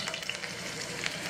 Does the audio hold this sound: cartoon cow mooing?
no